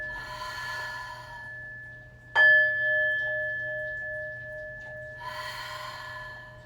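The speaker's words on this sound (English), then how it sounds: "take 3 full, complete breath cycles" Deep yoga breathing: a slow, airy inhale and a long exhale, a sharp chime-like ring midway that fades, then another breath, close and soft over a faint steady hum.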